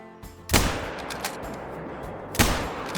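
Two loud, close gunshots in a hunting video game, spaced about two seconds apart, each ringing off in a short echoing tail.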